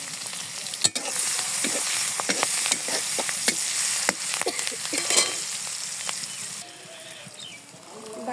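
Onions and green chilies sizzle loudly in hot oil in a pan after fish has been fried in it, with scattered sharp crackles and spatula clicks against the pan.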